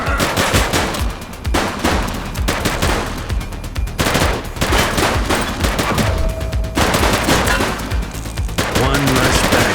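Loud, sustained automatic gunfire in the police video game The Precinct, a dense continuous rattle of shots with a few short breaks between long bursts.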